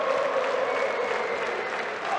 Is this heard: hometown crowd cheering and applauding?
yes